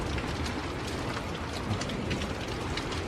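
Heavy storm rain pours steadily and loudly during a tornado-warning storm with 60 mph winds and hail, a dense unbroken roar with possible low thunder rumbling underneath.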